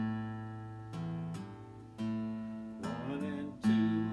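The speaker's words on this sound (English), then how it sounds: "I could also articulate that by using what's known as a hammer-on" Single guitar notes in a beginning improv lesson, plucked one at a time with a hammer-on articulation, each note ringing with clear harmonics in a slow, even rhythm, played solo and close with no talking.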